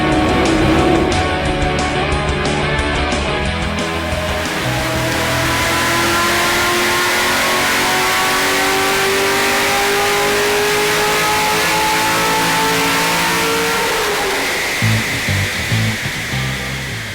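Corvette C6 Z06 with an LS7 V8 and FAST LSXr intake manifold on a chassis dyno, one long loud pull rising steadily in pitch, then the throttle lifts and the engine drops back to a rumbling idle.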